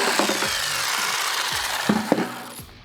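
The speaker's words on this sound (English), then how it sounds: "Now we're going to go ahead and cut that out with this jigsaw." A jigsaw cuts through wood for a homemade plyo box with a continuous buzzing rasp up close, with a few knocks and scrapes as the board shifts, before cutting off at the end.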